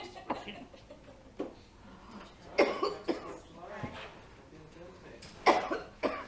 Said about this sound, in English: Got a cough?